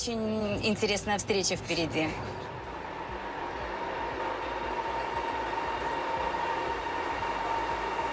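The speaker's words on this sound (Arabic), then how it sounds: "يعد القطار السريع هارمونيا الآن أشهر وسيلة نقل بين المدن في الصين" A Chinese Harmony high-speed train travels with a steady broadband rumble and hiss of rolling wheels, preceded by a brief burst of clattering, squealing sounds, loud and continuous throughout.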